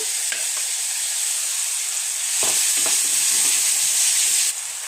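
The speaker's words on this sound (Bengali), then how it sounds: "তার মধ্যে দিয়ে দিচ্ছি অল্প কিছুটা হলুদ গুঁড়ো, ধনে গুঁড়ো, জিরে গুঁড়ো, অল্প একটু আদা বাটা দিয়ে আমি ভালো করে একটু ভেজে নিচ্ছি।" Spices with pointed gourd seed paste fry in a pan with a steady sizzle, turmeric, coriander, cumin powder and ginger paste among them, joined by occasional stirring scrapes that grow a little louder midway.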